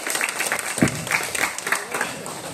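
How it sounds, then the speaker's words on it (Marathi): Audience clapping at a felicitation during a class reunion of a 2008–09 arts batch, a steady patter of many hands over the room, with brief voices mixed in. "सर्वांनी मोठ्या आवाजात टाळ्या वाजवायचे."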